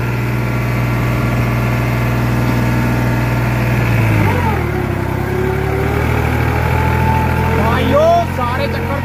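A New Holland 3600-2 tractor engine works hard pulling a cultivator in high gear with full lever down, a loud steady drone that sags in pitch midway then climbs again, close and continuous throughout.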